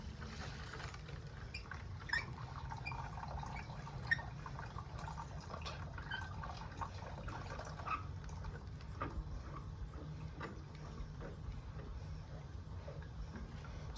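Faint, steady trickle and drip of water running outside an irrigation shed, with soft irregular ticks over a low rumbling background.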